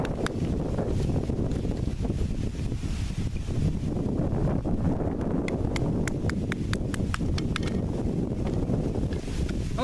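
Steady, loud wind buffets an outdoor microphone nonstop, with faint taps of wood being split in the background; no talking.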